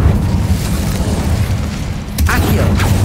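Incendio fire spell cast in the Hogwarts Legacy video game, a loud, sustained roaring blast of fire with deep rumbling, interrupted near the end by a short burst of voice before the roar continues.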